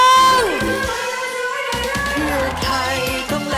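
A large outdoor political rally crowd for the Pheu Thai party in Maha Sarakham, gathered in the rain, claps and cheers loudly, with whoops and shouting voices over amplified music.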